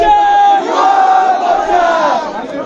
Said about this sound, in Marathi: भाजप सरकारचा जय जयकार या ठिकाणी करण्यात आला